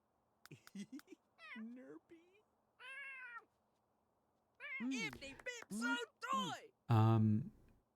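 A cat in a life-simulation video game meows repeatedly in short and drawn-out calls, some whiny and rising into a louder yowl near the end, clear and close with quiet gaps between them.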